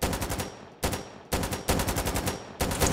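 Bursts of automatic gunfire in the war game Foxhole, a close, loud staccato of rapid shots in several sharp bursts with brief gaps between them.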